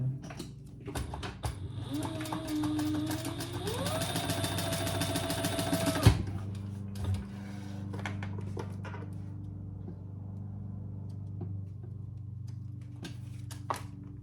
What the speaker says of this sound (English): now we're going to stitch underneath that card slot